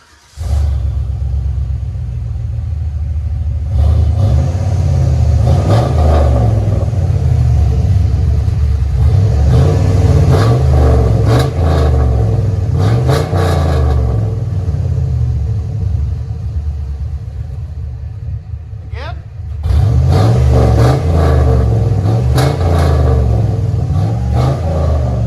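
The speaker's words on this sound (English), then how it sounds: "Those Super 10s right here." A 2001 GMC Sierra's 6.0L V8 with shorty headers and Flowmaster Super 10 true dual exhaust revs loudly nearby, with repeated throttle blips rising over a deep rumbling idle, a brief near-quiet dip, then more revving.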